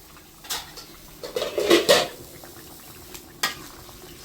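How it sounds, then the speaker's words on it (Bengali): A metal lid comes off a cooking pot of simmering potato and pointed gourd curry, giving a few close clinks and scrapes with a brief clatter in the middle over a faint kitchen background. "এখন ঢাকনাটা তুলে নেব।"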